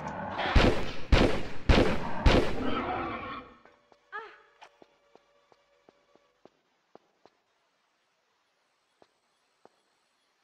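A dinosaur in Tomb Raider 3 lets out several loud, close, bellowing roars in quick succession. A short growl follows, then scattered faint clicks and taps over near silence.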